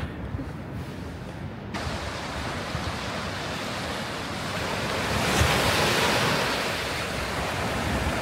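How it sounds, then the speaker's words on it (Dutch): Rough sea surf crashing onto the shore near Alicante after dark, a loud continuous roar of breaking waves with heavy wind buffeting the microphone and a swell of surging water midway. "Gaat er aardig ruig aan toe bij de zee."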